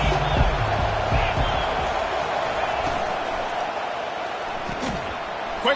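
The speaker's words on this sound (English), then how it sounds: "this crowd is turning it up a notch" Football stadium crowd cheering during a game, a broad continuous roar of many voices that rises early and then holds, with a commentator talking over it.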